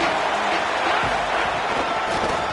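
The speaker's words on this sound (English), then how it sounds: "This crowd ready to make its presence known." Broadcast football stadium crowd roaring steadily throughout, a dense, distant wash of cheering from the stands with a faint low thump partway through.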